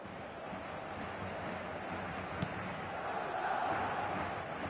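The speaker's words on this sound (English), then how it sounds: "Maybe the crowd will stay a little quieter next time." Football stadium crowd during a Real Madrid match, a continuous low roar of many voices that swells slightly toward the end, heard at a distance with no single voice standing out.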